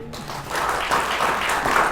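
Studio audience applause on a talk show set after the hosts praise a couple, a short, steady burst of many hands clapping that swells slightly after a quieter opening.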